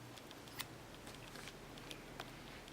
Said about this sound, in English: let's go ahead and cut that off really close